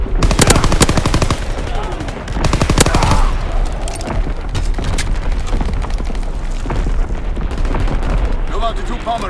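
Enemy artillery fire in a video game: dense, rapid bursts of gunfire and booming blasts pound on without a break. Close and loud for the whole stretch, with faint voices buried beneath.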